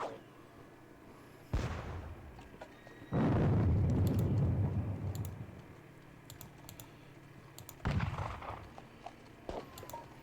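Horse artillery guns fire in the WDS Salamanca Napoleonic war game, one long heavy booming explosion with rumbling decay, flanked by a shorter blast before and another after, amid quiet keyboard and mouse clicks.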